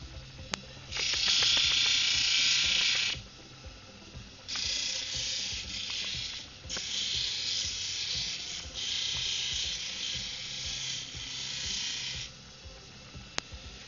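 A rock polishing wheel machine hums steadily, broken by several long, loud, hissing grinding bursts as stone is pressed against the wheel, with no voices.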